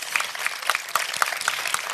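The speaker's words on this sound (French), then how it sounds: "Je pense que vous pouvez les applaudir à nouveau pour leur travail." Audience applause at a planetarium evening talk about space and the ocean depths, close, crisp individual claps from a modest crowd forming a brief, steady patter.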